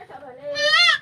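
A goat in a pen lets out a single bleat, a wavering nasal cry that rises and brightens toward the end, close and fairly loud against a quiet background.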